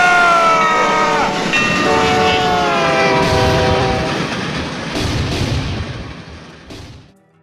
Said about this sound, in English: Boomity, you're on the train tracks